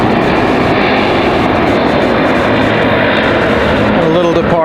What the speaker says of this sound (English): Looks like it might be a Cessna. Possibly a 172, 152.